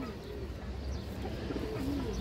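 Pigeons of an old breeding line coo in a low, steady murmur close by, the soft rolling calls continuing without a break.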